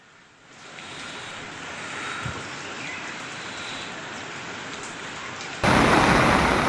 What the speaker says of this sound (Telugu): గ్యాప్ లేకుండా వర్షం దంచి కొడుతుండడంతో కాలనీలు జలమయమయ్యాయి.